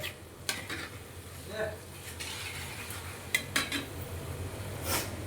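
Metal utensils scrape and clink against a pan while lifting fried French fries out of the oil, a few sharp knocks over a low background sizzle, close and moderately loud.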